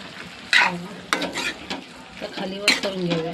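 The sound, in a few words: stirring bell pepper curry with curd in a pan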